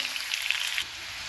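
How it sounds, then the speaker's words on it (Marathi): Cumin seeds, curry leaves and garlic paste hit hot oil in a tempering for a cluster bean dish, giving a bright, crackling sizzle that cuts off sharply partway through, close and without talk. "आपली छान तडतडली की त्याच्यामध्ये थोडेसे जिरे घालून घ्यायचे आहे"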